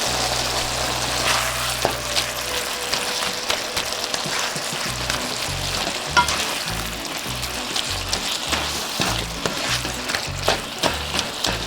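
Saltfish sizzles as it is added to a hot pot of ackee and saltfish, a steady frying crackle with repeated stirring and scraping knocks throughout, close and fairly loud.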